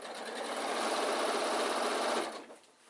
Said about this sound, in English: Sewing all the way across the front.